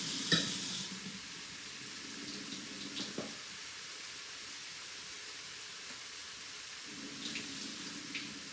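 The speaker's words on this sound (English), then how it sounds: "Just need tap water." Kitchen tap running water during home winter cooking: a soft, steady hiss of flowing water with faint clinks and splashes, fairly quiet and close, with a slightly fuller stream near the start and end.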